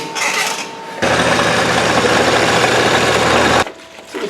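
A loud, harsh buzzing of a power tool cutting a hole in a metal motorcycle fuel tank starts abruptly, grinds steadily for a few seconds, then stops, with quieter hum before and after.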